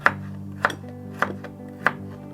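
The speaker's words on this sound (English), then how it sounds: "We're chopping the ginger now." Fresh ginger being chopped with a knife, four sharp, regularly spaced blade strikes on a cutting board close up, over a low steady background hum and no talk.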